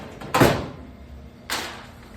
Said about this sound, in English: close this down and close your door